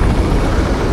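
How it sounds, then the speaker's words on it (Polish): Gauss helicopter flying in Crysis multiplayer, a loud, steady rotor and engine roar with a heavy low rumble, continuous and close for the whole moment. "Ale ten gaus helikopter jest taki powolny."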